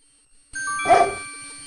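A dogwood tree in the King's Quest 6 adventure game gives a single short, clear dog bark that rises out of quiet game ambience, with a soft synthesized tone lingering behind it.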